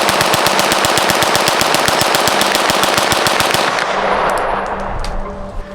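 Rapid 9mm pistol fire from a Glock, loud and close: a fast, even string of shots for about four seconds, then the firing stops and a ringing echo fades out.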